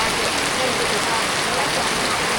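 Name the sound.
rain falling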